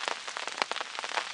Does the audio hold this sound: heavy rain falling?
yes